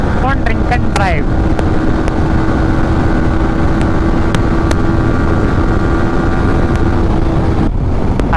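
A Yamaha R15 motorcycle speeds along a road, its engine a loud, steady roar mixed with heavy wind rush against the microphone, with a rising whine at the start and a brief drop near the end.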